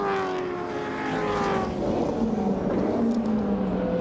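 Touring cars race at Calder Park in 1987, engines roaring past in a loud, sustained rush with pitch sliding downward as they pass, blending into a continuous drone down the back straight.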